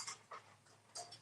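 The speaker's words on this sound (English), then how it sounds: "If you hear chomping behind me, it is Roxy the dog" Roxy the dog eating breakfast nearby, giving soft, wet chomping and lip-smacking bursts, three or four irregular bites over a second, faint and close in a quiet room with no talk.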